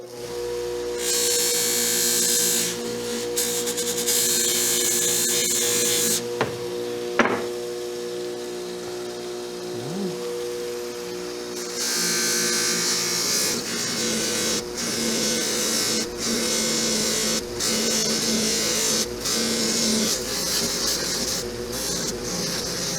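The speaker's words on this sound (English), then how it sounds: "I hit this one polishing compound on the wheel here. It's old chalky stuff." A bench buffing wheel runs with old, chalky polishing compound, a steady whine with bursts of harsh hiss as a workpiece is pressed to it, broken by brief pauses.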